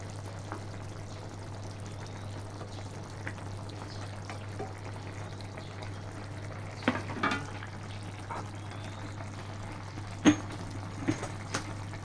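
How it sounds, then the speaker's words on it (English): Fresh coconut milk is poured into a pan of cooking eggplant and prawns. The soft liquid pour and faint stirring clinks sit over a steady low hum, with occasional small knocks. "Put fresh coconut milk."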